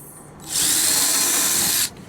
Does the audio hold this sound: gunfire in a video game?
no